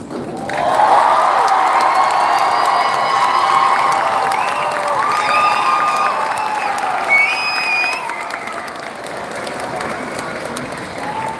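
A large crowd at a Guam high school graduation ceremony breaks into sustained applause mixed with cheering, whoops and children shouting, loud and full throughout with voices rising above the clapping.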